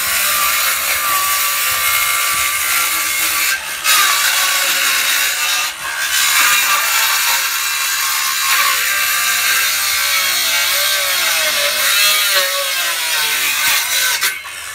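A handsaw trims a gate built from free pallet wood for a deck, a loud, continuous rasping close up with steady back-and-forth strokes and a few brief pauses.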